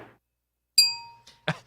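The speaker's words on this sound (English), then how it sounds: "My bell sucks." A bicycle-style bell rung once, a bright ringing ding that decays over about half a second, followed by a short clink and a louder clang; no talk.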